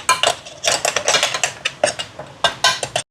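A spoon stirs and scrapes inside a pot of Sri Lankan chicken curry, making quick, rhythmic clinks and scrapes close by.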